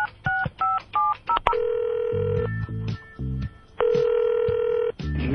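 Telephone keypad tones beep in quick succession as a number is dialed, followed by a steady ringback tone that sounds twice, with low muffled voices underneath.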